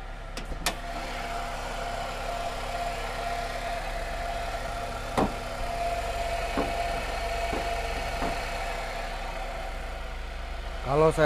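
A used car's engine idles steadily in the background, a low even hum with a few sharp knocks and clicks, while someone talks over it throughout.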